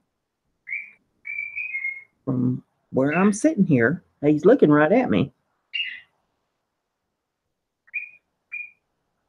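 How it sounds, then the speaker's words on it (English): A pet bird gives a rising-falling wolf whistle, clear and close, repeated a few times in short bursts around someone speaking indoors. "Oh, now he's wolf whistling."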